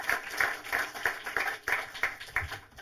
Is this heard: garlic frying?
no